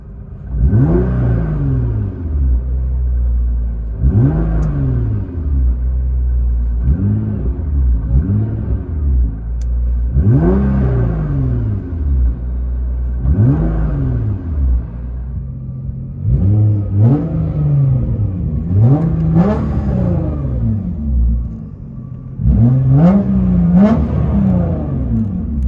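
Nissan GT-R 3.8L twin turbo with a straight pipe exhaust, revved repeatedly from inside the car: a series of about ten loud, rising blips that sweep up and fall back, deep rumble between them, no talk.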